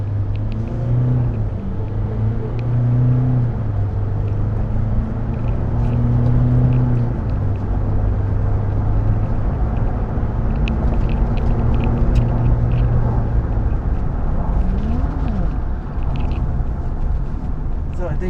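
Latest-model Haval SUV by GWM cruising on a racetrack, with a steady low engine hum and road rumble heard from inside the cabin while people talk over it throughout.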